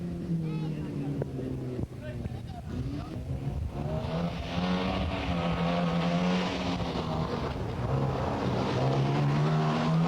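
A 1600 Sunbeam rally car driving a rally stage, its engine roaring and shifting pitch up and down as it accelerates, loud and close, with a voice talking over it.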